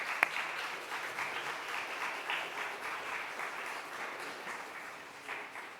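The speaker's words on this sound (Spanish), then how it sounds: "Un aplauso, por favor." Audience at a book presentation applauding steadily for several seconds, a dense even wash of clapping that fades slightly toward the end.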